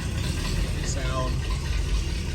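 A 390 engine idles through a new stainless steel exhaust on a station wagon, giving a steady, close, deep lumpy rumble with continuous low throb and no breaks.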